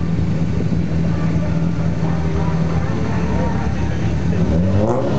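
A race car climbs a hill during a hill climb event in Evaux et Menil, its engine a loud, steady, close drone that rises in pitch near the end. A commentator speaks over it.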